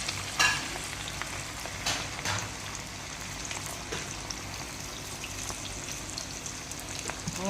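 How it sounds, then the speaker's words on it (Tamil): Beef khaima frying in oil in a pan, added a little at a time, a continuous fine crackling sizzle with occasional scrapes and pops throughout, moderately close. "நாங்கள் எண்ணெய் வச்சுருக்குறோம் கடையில் ஹைமா வறுக்கிறதுக்கு."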